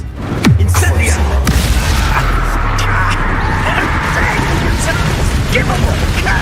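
The Incendio fire spell is cast in Hogwarts Legacy, a sudden booming burst near the start followed by a roaring, crackling rush that lingers. Voices are heard alongside it.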